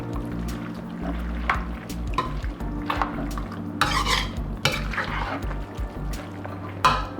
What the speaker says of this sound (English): add a can of the mild Rotel diced tomatoes and green chili to this. Give this a nice stir